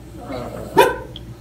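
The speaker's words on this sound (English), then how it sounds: "I am scared of this dog." A single loud, close dog bark cuts through a quiet indoor scene at a birthday party, with a faint murmur of background noise around it.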